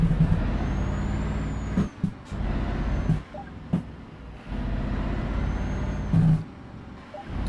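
A truck's air brake releases several times in Euro Truck Simulator, sharp hissing bursts cutting through a steady diesel idle, with the engine droning between them and no voices.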